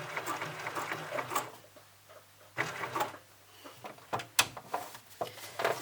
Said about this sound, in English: couple of stitches just to baste it into place for now.